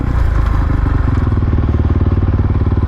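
A dirt bike engine pulses with a loud, close, rhythmic chug as the rider holds a coaster wheelie, the throttle steady and the clutch working between the balance point and coasting.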